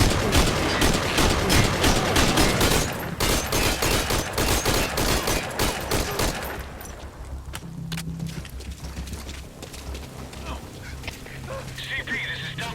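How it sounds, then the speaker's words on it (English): Dense rapid gunfire crackles loudly in the Metal Gear Solid V: Ground Zeroes video game, bursts continuing for several seconds before thinning into scattered distant shots with faint game sounds. "We've got unidentified gunfire"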